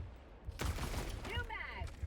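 Enemy gunfire in the video game Helldivers 2: two quick bursts of shots with a heavy low thump, fairly distant and quiet, while a voice is heard between them.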